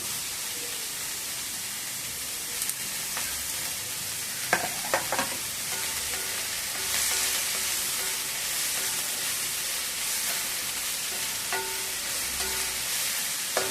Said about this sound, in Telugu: ఫస్ట్ ఉల్లిపాయల్ని మగ్గబెట్టుకొని తర్వాత టమాటాలు వేసేస్తాం